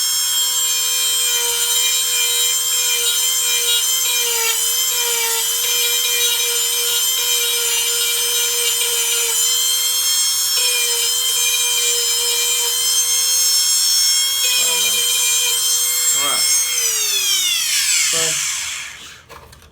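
A Dremel rotary tool with a sanding wheel whines loudly and steadily while grinding plastic, pitch shifting slightly near the end before it winds down.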